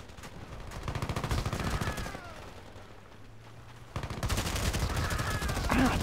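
An M249 machine gun firing in Battlefield Play4free, heard as loud rapid bursts of automatic fire with a short pause between them amid battle noise.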